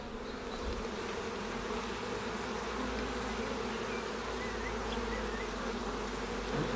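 Dense, steady buzzing of a honeybee swarm of about 20,000 bees being hived, continuous and close, filling the whole stretch without pause.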